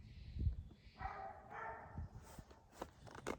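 A dog barks a few times at a distance, soft, with yips and whimpery sounds in a quiet room.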